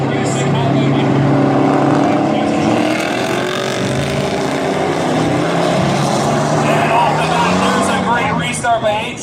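Dirt track race trucks at Valley Raceway lap the oval in a truck class feature, with loud, continuous engine roar rising and falling as they pass, under steady commentary from an announcer.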